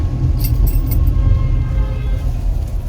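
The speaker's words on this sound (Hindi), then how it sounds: "देखो कितनी तेजी से आ रही है गाड़ियां" Cars pass quickly on a wet road in the rain, a close, loud low rumble of tyres and engines with a few brief high splashy hisses near the start.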